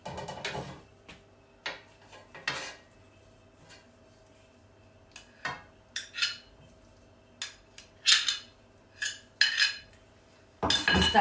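Butter, about 30 grams, dropped into a pan for an Italian orange chicken breast dish, with scattered clinks and knocks of cutlery and cookware in a quiet kitchen, several short taps spread across the moment.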